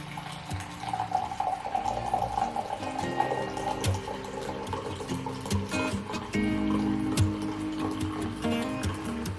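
Filtered Navajo coffee pours into a cup, a steady close liquid stream with trickling and faint clinks of the vessel, continuous and fairly loud with no talking.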